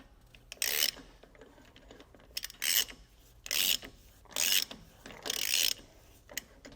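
A ratchet tightens a nut on a Dexter disc brake kit being installed on a 2021 Grand Design Solitude fifth wheel, giving five close bursts of rapid rasping clicks with brief pauses between strokes.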